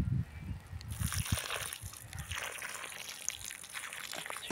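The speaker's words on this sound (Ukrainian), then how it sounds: "Щас я їх позаливаю." Water poured onto a planted garden bed, a soft continuous slosh and trickle close by, fairly quiet, with low murmured speech near the start.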